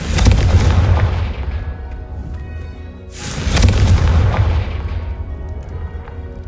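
Spell explosions from Confringo in Hogwarts Legacy burst loudly in two big booming waves with crackling fire tails, the second blast following about three seconds after the first, with no talk over them.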